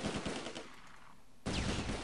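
Gunfire from the video game Close Combat: A Bridge Too Far, starting as a rapid rattle of shots that trails into a murky lull before a loud, dense burst of firing breaks in.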